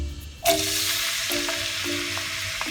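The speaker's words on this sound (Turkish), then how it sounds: "Soğanlarımızı bırakıyoruz yağımız kızdıktan sonra." Onions hit hot oil with a sudden loud sizzle that settles into a steady, close crackling hiss.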